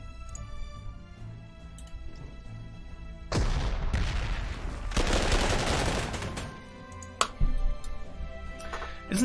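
Artillery and gunfire rumble through a 1939 Battle of Bzura scenario in Panzer Corps, quiet at first and then breaking into a loud, dense barrage lasting several seconds, with a few sharper reports near the end.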